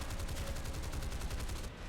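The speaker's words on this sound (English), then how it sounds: "Use the shotgun cannons at its finest." Rapid cannon bursts from an F2H-2 Banshee jet in War Thunder, a dense, steady rattle of shots running continuously at moderate loudness with no pauses.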